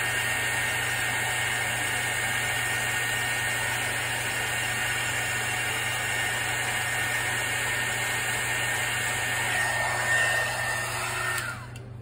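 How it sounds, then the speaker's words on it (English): A heat embossing tool runs steadily and loudly while melting embossing powder on a foil craft piece, a continuous whirring blower hum that carries on unchanged until it cuts off near the end. "let's go ahead and emboss this"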